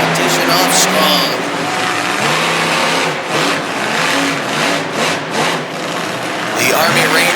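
A big Chevy monster truck engine roars and revs hard during a wheelie competition in Pocatello, Idaho, in 2019, loud and close with repeated surging bursts of throttle.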